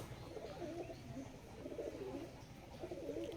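A wood pigeon coos softly in repeated low, rolling phrases, three or so bursts at a steady rhythm, faint and fairly close, over a quiet background with no talking.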